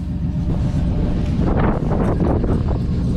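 Wind buffeting an outdoor microphone beside a truck with rusty brake lines, a loud, steady rumbling roar with gusty surges, continuous for the whole stretch and with no talking.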